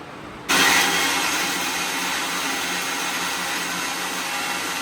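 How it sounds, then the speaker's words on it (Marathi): A kitchen mixer grinder finely grinds ginger, garlic, coriander and cumin for a Maharashtrian vadi curry, kicking in abruptly and holding a loud, steady whirring roar to the end, with no talk. "बघा, अद्रक, लसूण आणि सांबार आणि जिरं मी आता बारीक वाटून घेते मिक्सीमध्ये."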